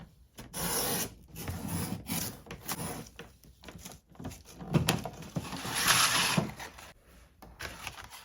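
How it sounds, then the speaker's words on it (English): Scissors or a blade rasp through the top edge of a paper envelope being trimmed for a junk journal, a close, rough scraping rustle that comes in uneven bursts with short pauses, no talking. "I cut off the top right there of my envelope, and now I'm going to do the same to the other side."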